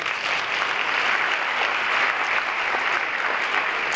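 Crowd at a school consortium awards ceremony gives a dense, sustained round of applause, many hands clapping evenly with a steady wash of sound and no pause.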